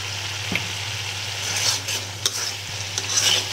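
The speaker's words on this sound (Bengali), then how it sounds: "চিংড়ি মাছ দিয়ে লুচি আর কি ভালো করে কষা চিংড়ি মাছটি দিয়ে দিই" Shrimp stir-fried in a pan, sizzling steadily under occasional stirring scrapes and soft clinks, close and fairly loud with no voices.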